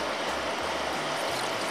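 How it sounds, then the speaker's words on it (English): Water pours steadily into a pot for fish soup, filling it to the top with a continuous, dense rushing splash that stays loud and even throughout. "she's now going to add water all the way to the top of the pot"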